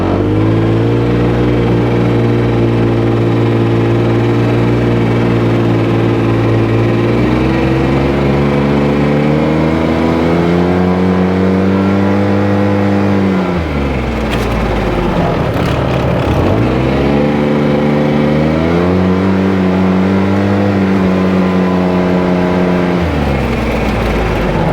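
A UTV fitted with a sound deadening mat drives around a field at about 20 mph, its engine droning loudly and steadily with rises and dips in revs as it accelerates and eases off, close and continuous throughout.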